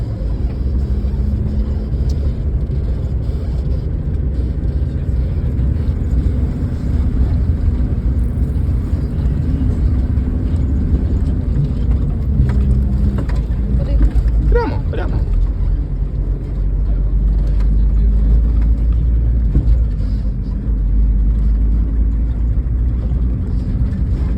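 A car engine accelerates during a driving lesson, holding a low, steady rumbling drone that swells slightly as the throttle opens, with faint voices murmuring inside the cabin.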